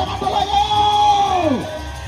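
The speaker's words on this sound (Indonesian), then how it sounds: "Tepuk tangan dulu" A crowd at a peresean stick-fighting festival yells and whoops, with one drawn-out shout rising and falling over a steady background roar of voices.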